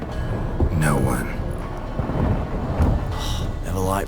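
A thunderstorm at sea in The Witcher 3 rolls on as a constant rumbling wash of wind and rain, with sharp bursts of crackling thunder breaking through and loud gusting noise throughout.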